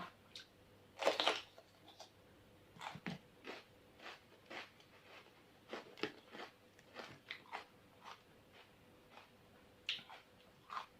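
Crunchy bites and chewing on som tam papaya salad: a steady run of short, crisp crunches, close to the mic, with a louder cluster near the start and no talking.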